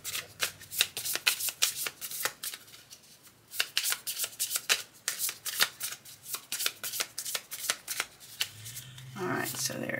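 Tarot cards are shuffled in a rapid series of crisp, papery flicks and riffles, close and clear, pausing briefly before another burst. A voice speaks softly near the end.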